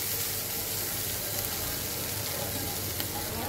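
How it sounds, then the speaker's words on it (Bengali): Vegetables with black cumin sauté in a covered pan for a fish-and-potato curry, giving a steady, close hiss and sizzle of frying throughout. "3-4 মিনিট আমি ঠিক এভাবেই কষাবো সবজিটাকে।"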